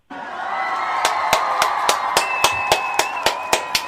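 A crowd at a toast celebration cheers and shouts loudly, the sustained din joined by a growing series of sharp, evenly spaced claps that become more distinct toward the end.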